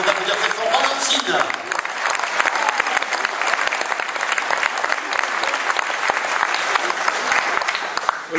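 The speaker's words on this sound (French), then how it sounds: "Je vous demande d'applaudir Valentine" A concert audience gives a member of the orchestra a sustained round of dense applause, a thick continuous wash of many hands with crowd voices underneath.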